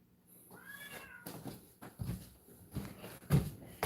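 A pet cat meows indoors, with a few drawn-out, insistent cries close by and fairly loud, mixed with faint shuffling and handling noises and no speech.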